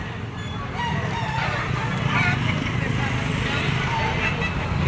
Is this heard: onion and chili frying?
no